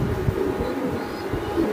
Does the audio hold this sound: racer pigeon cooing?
yes